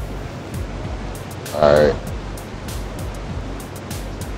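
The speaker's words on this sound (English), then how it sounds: "I'm over here by this big waterfall by the bridge" A big waterfall beside a bridge on the Ragnarok map of ARK: Survival Evolved on Xbox One sends up a steady, rushing roar of falling water. A person says a single word briefly over the wash.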